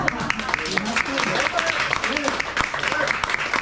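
Audience clapping at a live summer concert, distinct claps scattered through the stretch while voices talk and murmur over them.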